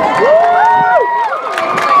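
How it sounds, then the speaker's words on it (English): A high school graduation crowd claps and cheers loudly, with whoops and shouted voices swelling over the applause across a short burst. "give your parents, your family, and your friends a round of applause for everything they've done for you"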